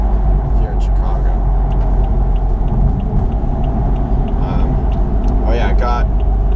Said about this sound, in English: I got a new exhaust system on this car. You guys might hear it.